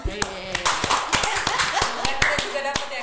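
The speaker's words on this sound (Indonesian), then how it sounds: "Tepuk tangan dulu" A small group at an office staff event claps in distinct, sharp slaps, irregular and close by, with people chattering and calling out over and between the claps.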